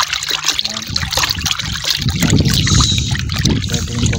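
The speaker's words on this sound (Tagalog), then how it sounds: "ihalo nyo lang po yung sachet sa kalahating balde ng tubig" Water sloshes and trickles in a half-filled bucket as a medicine sachet is stirred in, a steady close splashing that grows fuller after the first couple of seconds, with faint voices in the background.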